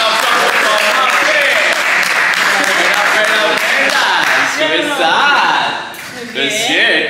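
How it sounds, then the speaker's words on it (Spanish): Studio audience at a dating show breaks into loud, sustained applause with cheering and laughter, then a host's voice emerges over the fading clapping toward the end. "Vamos a darle un fuerte aplauso a nuestra querida amiga."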